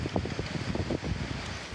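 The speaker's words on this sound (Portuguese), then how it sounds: "O morador da Zona Leste registrou o momento em que a ventania começou" Strong gusty wind at the start of a windstorm in the east zone of a city, gusts reaching 66 km/h, roars and buffets against the microphone in uneven bursts, fairly loud and close throughout, with no talking.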